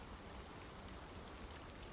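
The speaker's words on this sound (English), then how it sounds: "We got a bad storm rolling through." Heavy storm rain pours down in a dense, steady hiss that fills the whole stretch without any break, loud and even, with no voices over it.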